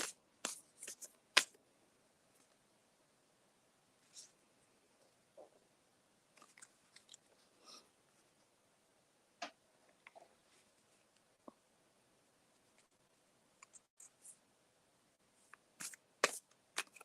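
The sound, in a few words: shuffling oracle cards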